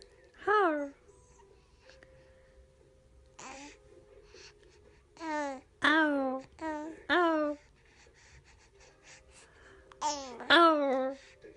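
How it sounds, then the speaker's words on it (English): A 9-week-old infant babbling and cooing, copying the vowel-like sounds his mother makes, in short melodic bursts that trade back and forth with her voice, close and clear in a quiet room. "a very short video clip of a 9-week infant interacting with his mother and replicating the sounds she is making"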